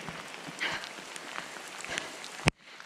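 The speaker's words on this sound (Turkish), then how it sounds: "Çok yağıyor, çok." Heavy rain falls on a tent during a storm, a dense steady patter with scattered louder drops, ending in a sharp close thump and then near quiet.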